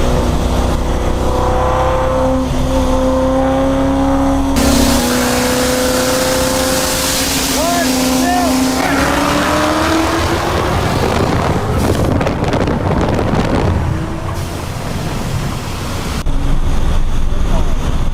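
Built 3V Ford Mustang GT racing a Whipple-supercharged GT350 in Mexico, its engine loud and close with rising revs and gear changes under heavy wind buffeting, rough and strained throughout.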